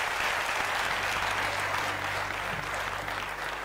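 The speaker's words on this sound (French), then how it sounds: "Applaudissements" A studio audience on the RTB talk show Le Grand Café breaks into applause after a score is announced, producing a dense, even roar of clapping throughout with no break.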